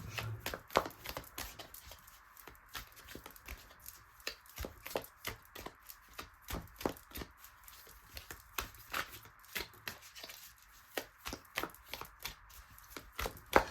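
Quiet, irregular crisp snaps and riffling taps from a deck of cards being cut and handled, with short bursts spaced unevenly and a soft background hiss between them.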